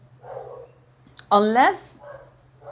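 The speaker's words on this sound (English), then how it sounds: "apologies for the dogs" A dog gives a single loud, close bark between stretches of a person talking quietly, with a faint low hum underneath.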